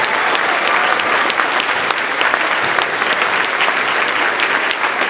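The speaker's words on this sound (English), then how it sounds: "Let's give a big round of applause to Dr." A school winter concert audience applauds loudly and steadily in a high school auditorium, dense continuous clapping that fills the room throughout without letting up.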